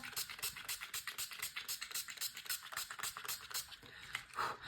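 Rapid rhythmic rattling of a small makeup setting spray bottle being shaken, a steady series of quick clicks close by.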